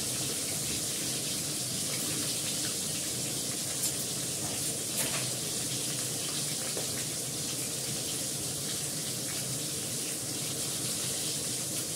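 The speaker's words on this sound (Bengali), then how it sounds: "চালটা ধোবো, ধুয়ে ভাতটা লাস্টে বসাবো গরম গরম" Rice being washed under a running tap, a steady continuous rush of water with faint splashing over a full stretch, close and fairly loud, with no talking.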